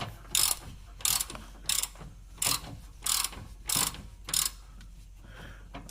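A ratchet with a 19 mm socket working a torsion key on a 1995-2005 Ford Explorer Sport Trac: seven evenly spaced bursts of close, sharp clicking, each about a quarter second long, repeating about every two-thirds of a second over a quiet background.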